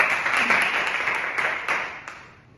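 Students in a classroom burst into a short round of applause that starts full and then thins and fades away over a couple of seconds, with a few last claps near the end.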